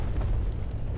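A cannon fires in a physics-based destruction video game, producing a loud, low, rumbling boom that fills the whole moment.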